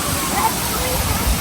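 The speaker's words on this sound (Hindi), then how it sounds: "पानी की आवाज़ इतनी अच्छी लग रही है ना यहाँ पर" Water rushes steadily near a waterfall, a dense, unbroken wash of noise that stays close and even throughout.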